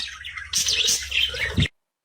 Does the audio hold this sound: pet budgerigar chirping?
yes